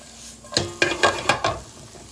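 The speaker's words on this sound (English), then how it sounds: "I have some caramelized onions going over here, Parker. I need to just stir them," Caramelized onions stirred in a hot pan, sizzling steadily with five distinct scraping strokes of the spoon in a quick, uneven rhythm, close and fairly loud.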